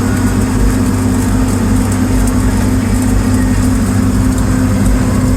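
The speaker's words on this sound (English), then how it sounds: "for this 50-year-old tractor." A 50-year-old tractor engine runs while disking a field, a loud, steady low drone and rumble that continues without change throughout.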